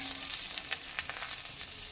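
Bottle gourd leaves wrapped around chhana paturi fry in a pan with a steady close sizzle, flecked with small crackles and pops throughout.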